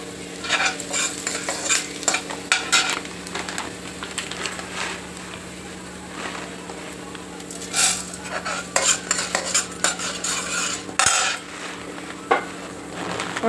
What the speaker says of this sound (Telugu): నూనె వేడైనాక 2 టేబుల్ స్పూన్లు ధనియాలు,